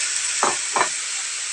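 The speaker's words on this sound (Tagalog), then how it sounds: "Lagay na natin yung mushroom guys." Mushrooms drop into a hot pan of frying tofu stir fry: a loud, steady sizzle is broken by two quick bursts close together as the pieces hit the oil.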